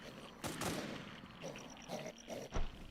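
Gunfire in the survival game WarZ: a few sharp, loud shots crack out in quick succession, then another close blast near the end over a noisy combat background.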